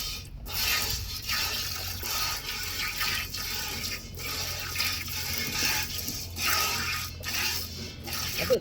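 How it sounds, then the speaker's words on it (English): Milk squirts from a cow's teats into a bucket in steady, repeated hissing spurts during hand milking, close and fairly loud with no voices. "we'll just spend the next couple of minutes just milking her out by hand"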